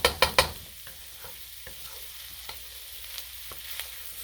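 Onions and garlic stirred and frying in toasted sesame oil for fried rice with Spam: a few sharp utensil clatters up front, then a steady soft sizzle with occasional light scrapes, close and moderately quiet.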